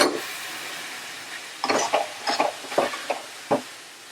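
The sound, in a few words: masala paste transferred from pan into pressure cooker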